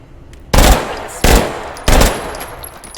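Three loud, separate bursts of machine pistol gunfire in the VR shooter H3VR, each a sharp crack that fades quickly, with short gaps between them and no voices over them.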